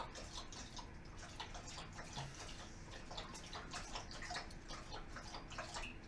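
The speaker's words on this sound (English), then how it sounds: "that is my enormous wolfhound having an after-supper drink" A large Irish wolfhound laps water from its bowl after supper, producing a steady, faint stream of wet splashing and dripping sounds heard at a distance in a quiet room.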